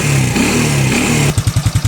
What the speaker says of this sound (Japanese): ちょっとじゃあエンジンをかけてみましょう。 もちろんセルなのですぐ簡単にかかります。